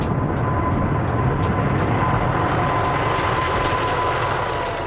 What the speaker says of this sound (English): A380-800 is the largest passenger aircraft in the world, featuring two full-length decks and a maximum capacity of up to 850 passengers.